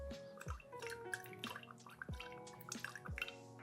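Angostura bitters fall from a Japanese dasher bottle into a bourbon cocktail, a few quiet drips and splashes spaced about half a second apart, soft and close, over a faint ringing tonal background.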